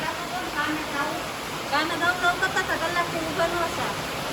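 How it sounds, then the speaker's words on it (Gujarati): Heavy monsoon rain pours down in a constant, loud hiss that fills the whole stretch, while people talk nearby over the downpour. "વરસાદ છે ને ફૂલ વધી ગયો અત્યારે"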